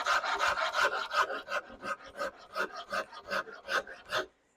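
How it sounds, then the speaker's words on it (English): A coarse rasp files a wooden guitar neck in steady back-and-forth strokes, each stroke a dry scraping burst, close and fairly loud, with a slight slowing of the rhythm toward the end and no talk. "I'm using my down and dirty rasp again."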